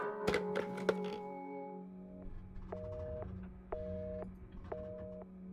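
In Resident Evil 7, a telephone sounds inside the game. A few sharp handset clicks and knocks come first, then a steady tone pulses in three or four evenly spaced bursts under a low hum. The sound is moderate and fairly close.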